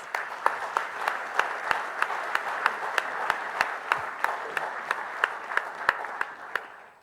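Sustained audience applause for a faith community group at a public press event, steady dense clapping from a crowd with a few sharper individual claps standing out throughout.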